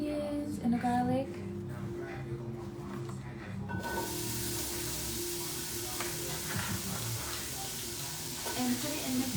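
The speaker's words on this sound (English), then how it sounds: "and put it in the pan. And I know you can hear that." Onions and garlic hit a hot pan for plant-based Spanish rice and sizzle steadily in a broad, close hiss that runs on alone once they land.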